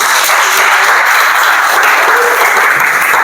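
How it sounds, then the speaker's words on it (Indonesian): A classroom full of students breaks into loud, close applause, a thick, continuous rattle of many hands clapping at full strength for several seconds without pause. "Tepuk tangan buat kita semua."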